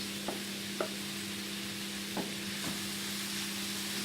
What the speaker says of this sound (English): Now I've taken the leeks out and put in the mince, or as the Americans call it, ground meat.